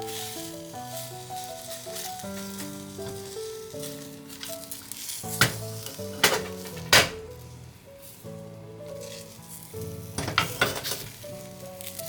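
Egg mixture sizzles steadily in a pan while a rolled omelette is cooked in layers, sweetened with mirin syrup, with soft music playing throughout and a few sharp clinks of utensils partway through.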